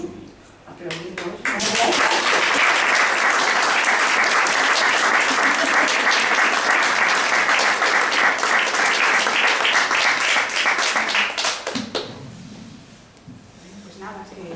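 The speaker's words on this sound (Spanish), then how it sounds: "Aplaudimos." A book presentation audience breaks into sustained, loud applause that swells after a couple of seconds, holds dense and steady, then fades out with a few voices around it.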